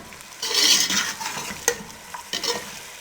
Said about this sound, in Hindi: अब इनको हम अच्छे से मिक्स करेंगे।